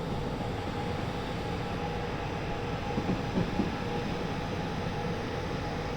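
A train in the game Derail Valley rolls downhill near 48 on its dynamic brake, giving a steady low rumble and hum with a faint rhythmic clatter, continuous and even, with no speech.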